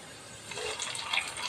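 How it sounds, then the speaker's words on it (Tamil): Hot tempering of garlic and dried chillies poured into spinach kootu gives a short, soft sizzle and splash that rises over about a second. "தாளித்தது வந்து ஊற்றிடலாம் அதில்"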